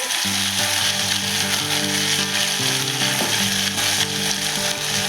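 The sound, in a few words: small bitter gourds added to sizzling oil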